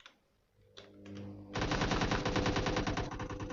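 Rapid automatic gunfire bursts in PUBG Mobile Lite start after a few single shots and continue as steady, loud, rhythmic firing.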